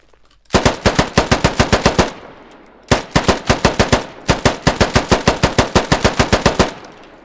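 An AK rifle in the game Squad fired on semi-automatic in three quick strings of sharp, evenly spaced shots, roughly eight to twelve each, loud and close, separated by short pauses with no talking.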